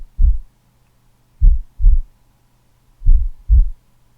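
A slow, steady heartbeat sound effect plays as soft low thumps in double-beat pairs, lub-dub, three pairs over a few seconds, with nothing else heard but a faint low hum underneath.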